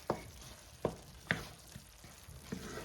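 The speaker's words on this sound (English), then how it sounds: "Put this butter in here and let this butter cook." Butter melting and frying with corn in a pan for old-fashioned Southern fried corn, a quiet steady sizzle broken by several sharp clacks of a utensil stirring against the pan.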